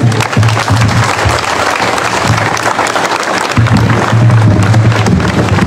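Loud, sustained clapping from students and guests at a school term-opening ceremony in Goma, following a student's reading, dense and steady over a low booming rumble, likely outdoors.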